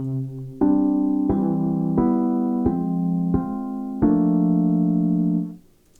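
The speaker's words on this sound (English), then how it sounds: "really nice, realistic Rhodes sound." Warm Rhodes electric piano chords in Ableton 11 move through a simple progression, each chord struck in turn and held, ringing out clearly with no voices.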